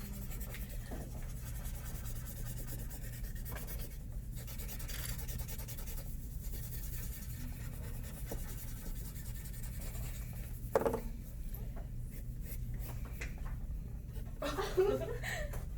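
A pencil shading on paper: quiet, close scratching strokes that continue steadily, with occasional louder rubs.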